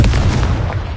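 A single Confringo fire spell in Hogwarts Legacy goes off as one loud, close booming blast that rings briefly and fades within a second.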